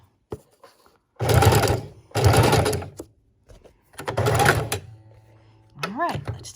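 Sewing machine stitching a paper junk journal tag in short bursts, three brief runs of stitching with pauses for pivoting, followed by a faint chirping squeak at the end.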